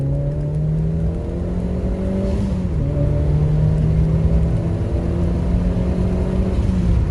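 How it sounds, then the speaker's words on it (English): A turbocharged Suzuki Swift ZC31S accelerates hard from a standing start at full throttle. The engine drones loudly inside the cabin, its pitch climbing and then dipping briefly at a gear change before rising again. "Another takeoff in 3, 2, 1, foot flat."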